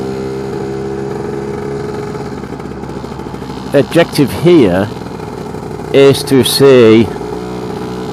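A Lambretta scooter fitted with a BGM PRO MZ30 exhaust idles with a steady drone, then revs sharply twice in loud rising bursts, close by, with someone talking.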